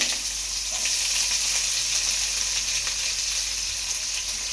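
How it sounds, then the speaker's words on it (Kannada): Onions and whole spices fry in oil in a pan over medium gas heat, giving a steady, close, continuous sizzle with faint crackles and no talk. "ಚೆನ್ನಾಗಿ ಫ್ರೈ ಆಗಕ್ಕೆ ಬಿಟ್ಬಿಡಿ ಗ್ಯಾಸ್ನ ಮಧ್ಯಮ ಉರಿಲಿ ಇಟ್ಕೊಳ್ಳಿ"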